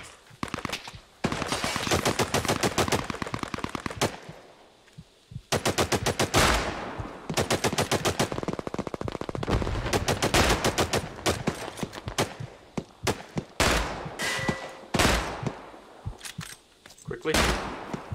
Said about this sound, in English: Yeah, the machine gun, you can't, like, you have to put a bipod down to use it.